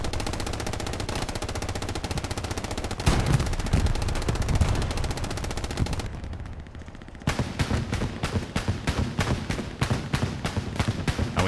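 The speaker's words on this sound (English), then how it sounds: "And we hear the 20mm cannon from Deluxe going off." Sustained automatic gunfire from a 20mm cannon in the World War II shooter Hell Let Loose, with dense rapid bursts, then a brief lull and a steady rhythmic string of heavy shots.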